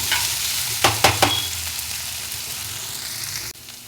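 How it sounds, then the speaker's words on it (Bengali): Chopped potatoes frying with salt in a pan, giving a continuous close sizzle marked by a few sharp spatula knocks early on, and the frying sound dropping quieter near the end. "এইবারে দিয়ে দেব কুচি করা আলু, একটু নুন দিয়ে নিই, এবার একটু ভেজে নেব এটাকে"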